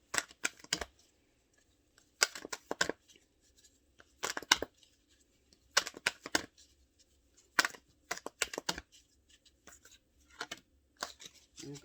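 Tarot cards shuffled by hand in quick bursts of crisp riffling and flicking, separated by short pauses, close and fairly quiet with no talking.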